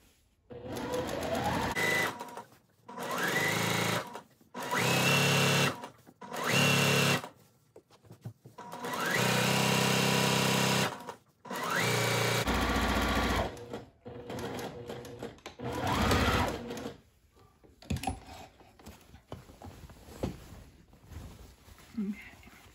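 A sewing machine stitches a quarter-inch seam on a sundress, its needle whirring in several loud runs of a few seconds each, broken by pauses and a backstitch, with a person talking in between.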